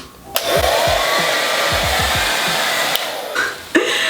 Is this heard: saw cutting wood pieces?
no